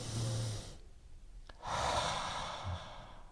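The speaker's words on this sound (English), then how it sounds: "So it's belly breathing." Slow diaphragmatic belly breathing demonstrated up close: a long audible exhale, a short pause, then another breath, with no talking.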